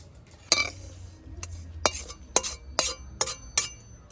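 Fried semolina and flour being scraped out of a pan into a bowl, a quiet sequence of about seven sharp metallic clinks and taps of a utensil against metal cookware, spaced irregularly.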